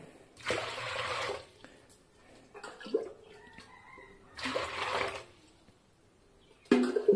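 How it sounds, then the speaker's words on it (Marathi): Water is poured into a cooking pot in two separate gushing bursts a few seconds apart, close and moderately loud, with small knocks of the vessel in between, while the pot is readied to steam a jackfruit dish. "एका टोपामध्ये असं पाणी घ्यायचं"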